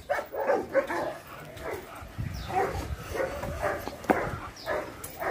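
A fearful dog being trained whimpers and gives short, yelping barks, with scuffling close by and brief low voices mixed in.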